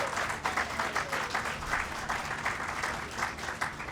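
Steady applause from an audience at an interfaith solidarity march gathering in Los Angeles, dense clapping sustained throughout at moderate distance.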